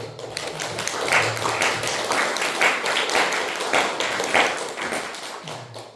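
A church congregation at a Sunday worship service claps in a sustained, fairly even burst of many hands close by, with a few low thumps mixed in.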